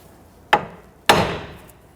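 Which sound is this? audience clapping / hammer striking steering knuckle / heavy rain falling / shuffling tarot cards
hammer striking steering knuckle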